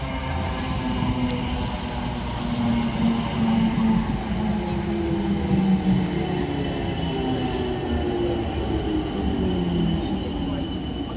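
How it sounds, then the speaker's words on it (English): A South Western Railway train arrives at Raynes Park platform, a loud sustained rumble of wheels on track with rising and falling tonal whine and faint squeals, steady throughout, with a voice speaking nearby. "I think this is the 1228 service from Waterloo to Waterloo via Strawberry Hill."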